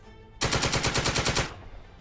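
A machine gun in the squad tactics game Second Front fires one loud, close burst of rapid, evenly spaced shots that lasts about a second, then cuts off sharply, with nothing else around it.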